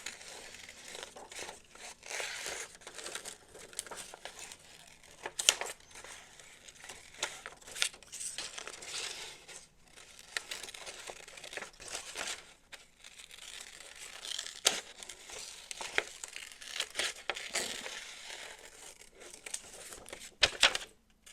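Small scissors snip through paper for a collage in a long run of crisp, irregular cuts and rustles, close and quiet, with no one speaking.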